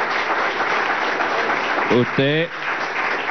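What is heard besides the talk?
applause for Diosdado Cabello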